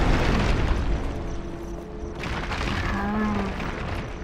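Explosion in the Just Cause 3 video game: a broad, rumbling burst at the start that decays into a sustained low roar, with game ambience continuing underneath.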